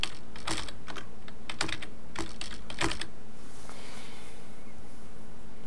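Keys clatter on a computer keyboard as a password is typed, a quick burst of about a dozen close, crisp taps over three seconds, followed by quiet room hiss.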